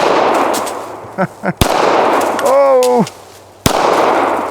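Gunshots fired at a watermelon target, two sharp loud reports cutting through outdoor noise, with a brief exclaimed voice and a rising-falling whistling tone between them.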